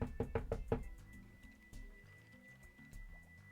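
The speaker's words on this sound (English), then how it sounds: "It's me knocking on my desk to make it sound like there's a goose in the area." Several quick knocks on a desk land in a fast burst, fairly close but quiet, followed by low background noise.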